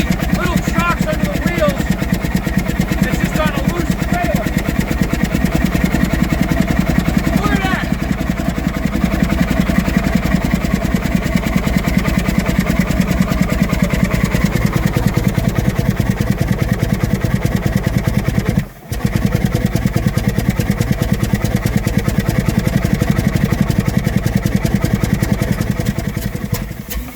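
A Herreshoff triple expansion steam engine runs on a loose trailer resting on caster wheels, giving a steady, loud mechanical churn with rhythmic clatter that continues without a break, apart from one brief dip.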